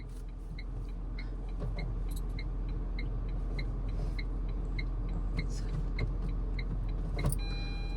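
A Tata Punch car idles steadily in reverse gear with a low engine hum, while a faint repeating electronic beep, like a reversing alert, ticks along at regular intervals.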